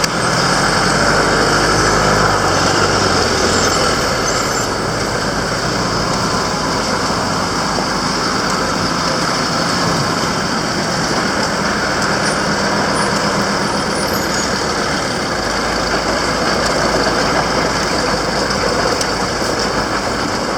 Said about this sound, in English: vehicles are using this lane. As you can see, this is the lane which they are using right now.